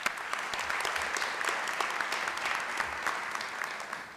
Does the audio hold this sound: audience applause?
yes